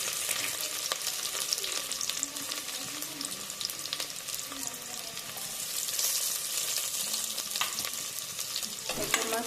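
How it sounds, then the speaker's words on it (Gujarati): Finely chopped onion sautés in a pan toward browning, a steady loud sizzle running throughout with occasional stirring scrapes and no talking. "ઝીણી ઝીણી આપણે કટ કરીને રાખી છે ડુંગળી, તો એને પહેલાં આપણે એકદમ મસ્ત બ્રાઉન થાય ત્યાં સુધી સાતળી લઈએ"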